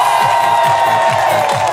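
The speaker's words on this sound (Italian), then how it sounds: "Va bene, a San Severo vogliamo questo applauso" A crowd at a live comedy show in San Severo cheers and claps loudly and steadily, with shouts over the top and a rhythmic low pulse underneath throughout.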